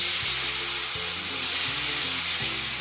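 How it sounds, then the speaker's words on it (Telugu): Chopped tomato pieces land in hot oil in a kadai and set off a loud, steady, close sizzle that carries through the whole stretch. No voice is heard. "ఇప్పుడు మనం కట్ చేసి పెట్టుకున్న టమాటా ముక్కలు వేసుకుందాం."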